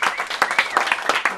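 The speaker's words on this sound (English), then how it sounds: "Can I get an applause for that one?" An audience bursts into brief, dense applause, many hands clapping at once with a lively cheer mixed in, loud and close.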